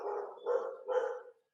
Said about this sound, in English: Oh, excuse me, those are my dogs.